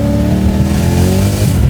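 A supercharged V8-swapped BMW E30 accelerates hard, a loud, sustained rising engine roar with layered climbing harmonics, heard up close on wet pavement with no voices.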